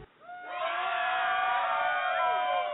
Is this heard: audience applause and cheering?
yes